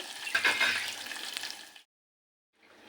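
A tempering of coriander and asafoetida for mango dal sizzles loudly in hot oil for under two seconds, then stops abruptly, and a fainter sizzle comes back just before the end.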